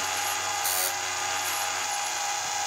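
A grinding wheel that may be slightly off center spins steadily while sharpening the rakers of a chainsaw chain, producing a continuous high-pitched whine with a brief brighter grinding contact.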